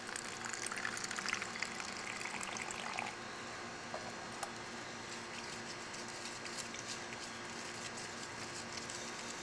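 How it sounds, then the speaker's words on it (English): Water poured into a Eureka 2 container to thin and rinse it out, a steady close splashing and trickling that is busier at first and then settles into a softer continuous flow. "Just pour some water in there."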